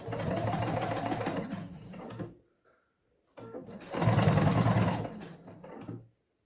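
A sewing machine stitching a bag seam, two runs of fast rhythmic whirring and clatter, close and steady, separated by a brief silent pause.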